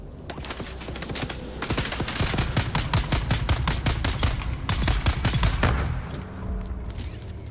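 Turret gunfire in a video game rattles off as rapid, loud automatic bursts that hold steady for several seconds and then fade out.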